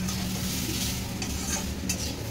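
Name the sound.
bitter gourd, potato and onion frying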